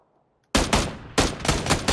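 PUBG gunfire starts abruptly after near silence, a loud string of close, rapid shots in two quick bursts with a brief gap between them.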